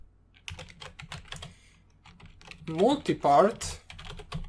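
Rapid clicking keystrokes on a computer keyboard come in short bursts, close and light, while someone talks over part of the typing.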